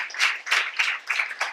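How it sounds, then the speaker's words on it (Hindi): A church audience at a gospel teaching session claps in a few rhythmic bursts, fairly close and clear, with no voices over it. "सो इसके लिए ताली बजाओ जो इनके जीवन में।"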